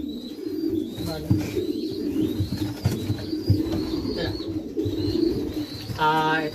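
Racing pigeons on race loading day in Oropesa, Madrid, Spain coo steadily in a low, rolling murmur, with higher chirps above it, while people talk nearby.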